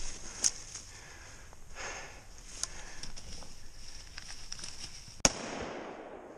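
A gun fires once while hunting outdoors in Missouri: a single loud, sharp report near the end that decays quickly over faint outdoor background, with a smaller pop earlier.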